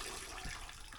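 Coolant drains from the lower radiator hose of a 1980 Triumph TR7, a steady, close splashing pour that runs unbroken through the moment.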